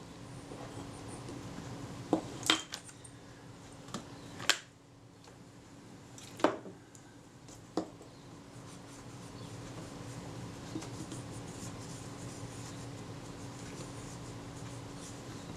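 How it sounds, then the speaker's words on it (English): A wooden toothpick scraping packed dirt and dried grease from a Retina-Tele-Xenar 135mm f4 lens part, producing a few sharp close ticks and scratches early on, then a quiet steady background. "I'm just using a toothpick to run around here and remove any packed in dirt and dried grease"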